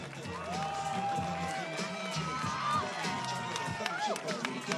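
A crowd at a CrossFit competition in Varna cheers and claps, with whoops and shouts rising over a lively arena din while an announcer speaks over the noise.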